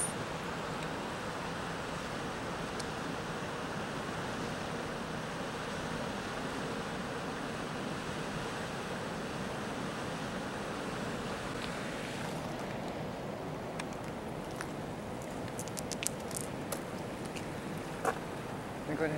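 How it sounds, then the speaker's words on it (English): A deep, fast-flowing river rushes in a steady, loud broadband roar that carries on without a break, with wind buffeting the microphone. "look how deep the river is right now"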